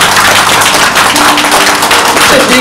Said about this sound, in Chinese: 我们掌声给王岳老师一个掌声，好不好？